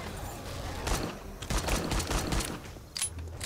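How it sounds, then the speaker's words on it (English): Shotgun blasts in the survival video game 7 Days To Die, several loud, sharp booms spaced irregularly over a few seconds with short decaying tails and no talk. "This shotgun's not very good at long distance,"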